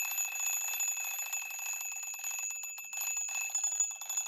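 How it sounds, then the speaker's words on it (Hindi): A table alarm clock rings continuously with a steady, shrill electronic beeping, loud and close, with no voices. "देखिए अलार्म बज गई"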